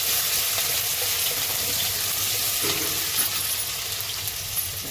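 Garlic and chilies hit hot oil for soybean manchurian, giving a steady, close broadband sizzle that hisses on without pause, with faint stirring clatter underneath and no talking.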